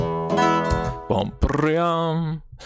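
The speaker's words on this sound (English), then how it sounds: "so you hear this strumming sound" Bright plucked Spanish guitar chords ring out, a few separate strums with sustained harmonic tails and short pauses between them.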